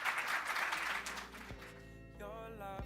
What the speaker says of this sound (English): And a big round of applause to Troy